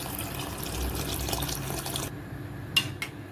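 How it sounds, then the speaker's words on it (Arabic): Water poured into a cooking pot over tomato sauce for shrimp mabkabka, a continuous gushing splash lasting about two seconds that stops abruptly, followed by a couple of faint drips or clinks, close by with no talk. "بعد ما خدت تقلبتين هنزل بقى بالميه"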